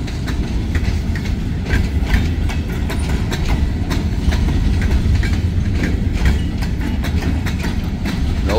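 Empty tall gondola freight cars roll past in a moving train, giving a loud, continuous rumble with repeated clickety-clack wheel beats and metallic rattles, close by with no talking.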